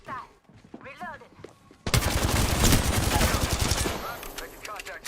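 Video game gunfire erupts after a brief stretch of voices: a sustained, loud burst of rapid automatic shots rattling for about two seconds, then tapering off as a voice returns.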